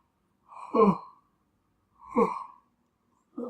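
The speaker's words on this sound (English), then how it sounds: "I'm going to yawn again" Two drawn-out, breathy yawns separated by a short pause, close up, with the start of a third breath at the end.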